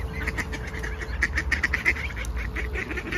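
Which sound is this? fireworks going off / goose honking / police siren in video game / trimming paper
goose honking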